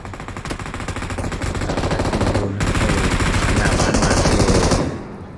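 Rapid automatic gunfire in the video game PUBG BGMI, a loud, sustained burst of closely spaced shots that briefly pauses midway, then continues before cutting off.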